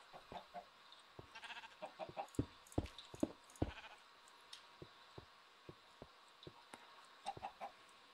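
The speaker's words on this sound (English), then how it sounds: "Come on, my little chickens." Chickens in the video game Minecraft cluck and squawk in scattered short bursts, fairly faint, with irregular pauses between calls and no talking over them.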